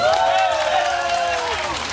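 Festival crowd clapping at a lively Dano folk festival in Gyeongsan during a gakseori beggar-song performance, a steady close wash of applause with a gliding voice or tone over it, fading slightly by the end.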